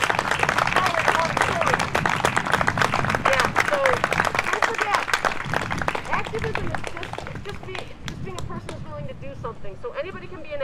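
A crowd at a Black Lives Matter protest march claps steadily, with dense applause and some cheering that tapers slightly toward the end and voices mixed in.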